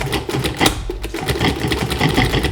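A food processor whirs in a few quick pulses, spinning flour, salt and other dry biscuit ingredients with a loud, buzzing, rattling motor hum.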